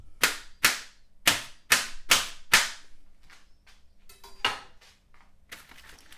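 A ready meal's plastic film lid being pierced repeatedly, six sharp crisp pops in a steady rhythm, close and loud, followed by fainter scattered clicks and rustles of the tray.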